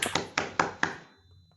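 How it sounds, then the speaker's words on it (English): A few distinct claps over a video call, about five sharp hits in quick succession, slightly thin and compressed, then a quiet fade. "we can give a round of applause"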